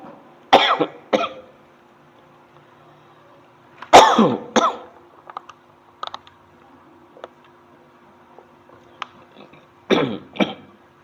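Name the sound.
coughing and throat clearing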